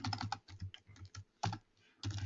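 Keystrokes on a computer keyboard tapped in quick uneven bursts, close and clear, with short pauses between runs of clicks and no talking.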